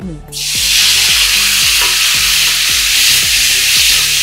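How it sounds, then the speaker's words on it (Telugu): Tomato pieces fry in hot oil in a pan with a loud, steady hiss and sizzle, while rhythmic scraping strokes of stirring repeat underneath throughout; no one speaks. "ఈ ఆయిల్లో కొంచెం ఆయిల్ పోసేసుకుంటే టమాటా ముక్కలు మనకి వేగుతాయి చక్కగా"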